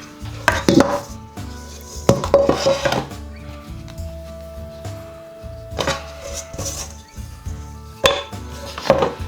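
Wholemeal wild garlic bread dough kneaded by hand, heard as irregular thumps and knocks against a bowl or board in bursts, with quiet pauses between and no speech.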